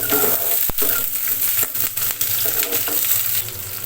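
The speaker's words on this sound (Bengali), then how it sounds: "আলুটা ভাজা ভাজা হচ্ছে এরই মধ্যে আমি কয়েকটা কাঁচামরিচ ফালি করে রেখেছিলাম সেগুলো দিয়ে দিচ্ছি" Potatoes and sliced green chillies fry in a pan for a raw jackfruit curry, giving a steady close sizzle with a few sharp stirring clatters and scrapes throughout.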